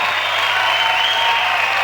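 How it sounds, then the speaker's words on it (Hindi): Studio audience applause for a new character's entrance on a comedy show, a steady dense wash of clapping held at even loudness throughout, with no voices over it. "Please everybody, तालियां"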